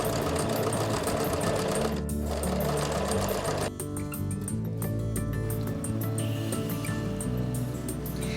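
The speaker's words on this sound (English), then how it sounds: "you've got a bit of feeling for your sewing machine and where the stitches go" A sewing machine stitches a seam in a fast, steady mechanical whir with rapid needle ticking, running loud and close with a brief change in pace partway through.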